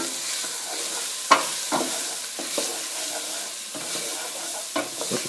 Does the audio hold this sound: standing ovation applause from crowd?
no